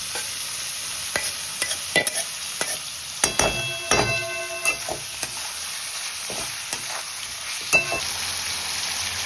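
Marinated soybean chunks frying in a pan after potatoes, a soft continuous sizzle with irregular stirring scrapes and a few sharp clinks of a spatula on metal.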